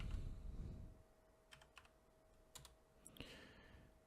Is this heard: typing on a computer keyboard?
yes